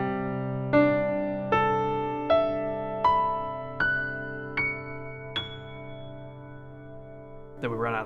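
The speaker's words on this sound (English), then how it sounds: "the circle of fifths just refers to a sequence of perfect fifths" Sustained single notes, likely piano, step through a sequence of perfect fifths around the circle of fifths, seven ringing tones about one per second, each decaying, followed by a brief voice at the end.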